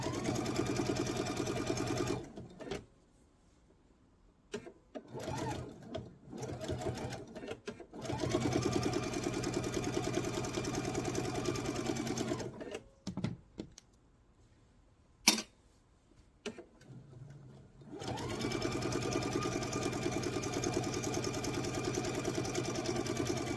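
Sewing machine stitching the seam of an oval fabric placemat, running in steady bursts of close, loud whirring with several brief pauses in between and a sharp click partway through.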